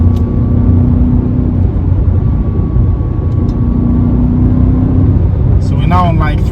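A Mercedes C63 AMG engine roars at high revs on a country lane, a steady heavy drone heard from the cabin, with a brief voice near the end.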